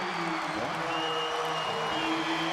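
A basketball arena crowd roars with cheering and applause at an NBA game, a dense and loud wash of noise that holds steady throughout.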